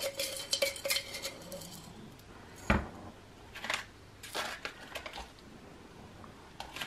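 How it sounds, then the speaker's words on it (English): Crystals scraped and scooped from a container, with light scratchy strokes and a few sharper clinks and taps, including one louder knock near the middle, close and fairly quiet with no talking. "When you get to the last bit, you do literally have to scrape every last sort of bit."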